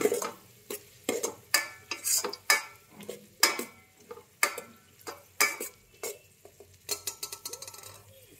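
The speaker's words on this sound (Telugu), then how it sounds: "బాగా వేయించుకుంటున్నా. బాగా వేగినాక టమోటా వేద్దాం. ఆనియన్స్ అయితే బాగా వేగినాయండి." Onions sautéed with whole spices in a pan for biryani, stirred with a utensil: a steady run of sharp scraping and clinking strokes, roughly one or two per second, over a faint sizzle, close and moderately loud with no voices.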